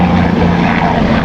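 A police helicopter flies overhead in Texas, its engine and rotor giving a loud, steady droning roar that fills the whole moment without breaks, with no talking over it.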